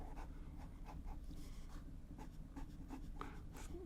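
Pelikan M215 fountain pen with a medium nib moving across Rhodia paper, giving a quiet, close scratching with short repeated strokes and faint background hum.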